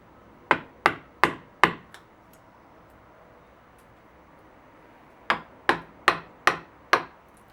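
A chisel struck by a mallet chops a mortise in wood, with two bursts of about five sharp, evenly spaced knocks separated by a quiet pause, close and clear with no voices.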